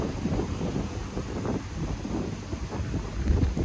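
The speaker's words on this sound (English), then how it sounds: "It's a little windy out here." Hurricane wind buffeting a microphone outdoors, a steady loud low roar with gusty surges throughout and no talk.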